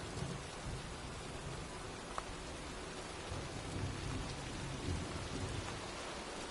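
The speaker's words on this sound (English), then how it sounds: "Well, looks like a storm's coming." Steady rain and rolling thunder from a video game storm, a continuous wash of rainfall at even level with soft low rumbles underneath and no voices.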